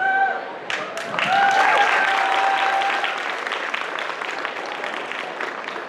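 Convention audience at an anime panel applauding, a dense sustained burst of clapping that swells and then slowly thins, with some voices mixed underneath.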